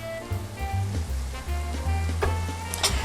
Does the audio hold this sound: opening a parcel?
no